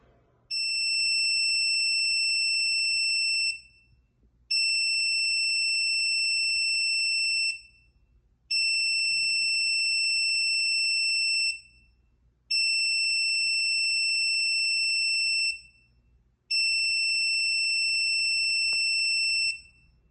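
A buzzer sounds five long, loud steady tones of about three seconds each, separated by short gaps, as an SOS alert signal driven by code, with a faint low hum underneath and no talking.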